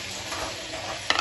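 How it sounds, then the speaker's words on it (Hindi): Mutton frying with tomatoes and green chilies in a pulao pot gives a steady broadband sizzle throughout, with a brief stir or clatter near the end. "इसको करते हैं मिक्स भुनाई। और इसमें डालेंगे अब टमाटर और हरी मिर्चें।"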